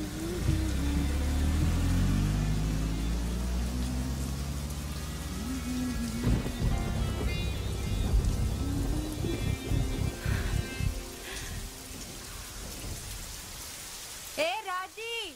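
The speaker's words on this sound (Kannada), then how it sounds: "ಮಳೆ ಬರ್ತಾ ಇದೆಯಲ್ಲ." Heavy night rain pours down in a Kannada film scene while thunder rolls low and long. Music and brief voices sound alongside the storm, and a sharper, tonal sound rises near the end.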